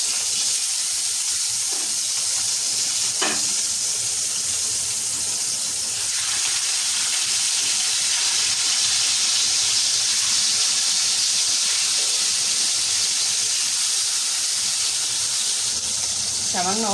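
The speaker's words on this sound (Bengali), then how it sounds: "তেল গরম হয়ে গেছে, দিয়ে দেব মাছ।" Rohu fish frying in hot oil gives a loud, continuous sizzling hiss that holds steady for the whole stretch, with a voice speaking faintly now and then over it.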